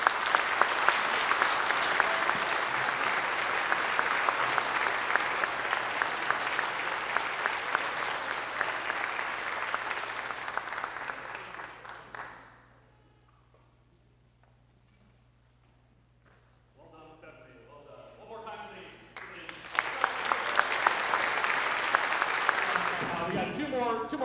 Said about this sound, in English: one more round of applause for all these guys